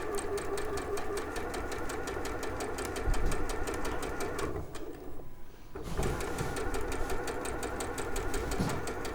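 A sewing machine stitching two pieces of fabric together with a quarter-inch seam and a medium stitch length runs in a steady, rapid, close mechanical chatter, stopping briefly midway before resuming.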